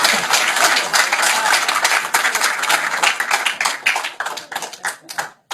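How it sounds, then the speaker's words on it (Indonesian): A crowd claps loudly and continuously, the applause thinning into scattered individual claps toward the end. "Awas, tepuk tangan Pak."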